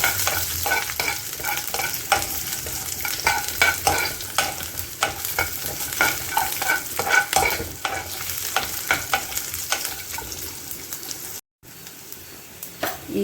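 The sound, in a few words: crushed garlic frying in tempering oil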